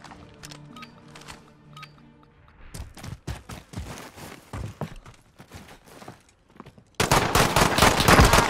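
Video game gunfire crackles in rapid bursts of sharp shots and machine-gun fire, sparse at first and then building into a dense, loud fusillade at the end.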